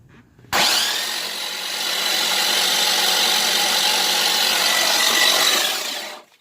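A loud, steady mechanical whir kicks in abruptly and runs for about six seconds without pause, then cuts off, as an LS 5.3 V8 engine cranks over on its starter while being primed for oil pressure.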